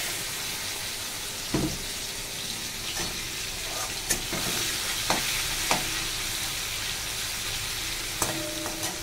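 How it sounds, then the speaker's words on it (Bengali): Prawns fry in hot oil with cardamom, cinnamon and cloves, a steady close sizzle broken by a few sharp spatters and scrapes of a spatula against the pan. "চিংড়ি মাছ ভেজে নিই"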